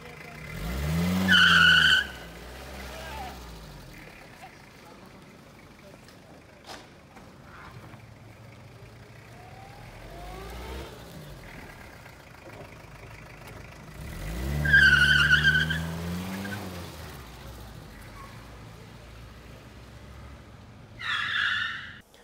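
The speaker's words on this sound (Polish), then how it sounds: "spójrzcie na filmik z próby sportowej na jednym z rajdów Mistrzostw Okręgu Warszawskiego" A Fiat Ritmo Diesel on a rally sport trial of a Warsaw district historic vehicle championship makes two loud passes with screeching tire skids and engine revving, plus a fainter mid-distance run and a last squeal near the end.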